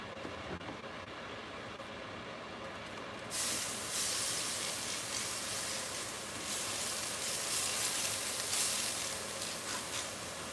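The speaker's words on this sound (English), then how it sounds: "Let me spray the grill for a second." Cooking spray hisses onto an outdoor grill in two sustained bursts of loud, close spraying over a constant background rumble.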